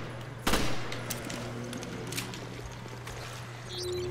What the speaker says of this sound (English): this burst might cost me most of my ammo if I'm not careful